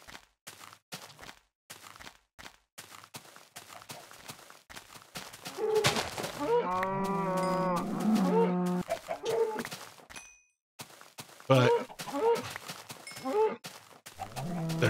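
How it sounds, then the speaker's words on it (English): A Minecraft cow lets out a drawn-out, wavering low moo up close, then a shorter second moo after a brief gap, set among game clicks and footsteps, with a single spoken word. "Where are you, cow?"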